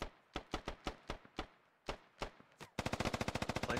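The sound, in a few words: gunfire in a military video game (Squad)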